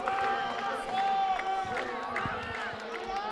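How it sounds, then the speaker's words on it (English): A massive Japanese crowd at the World Para Athletics Championships in Dubai, cheering at a steady level under a commentator's voice, with rhythmic claps or thuds mixed in. "there is a massive Japanese crowd here"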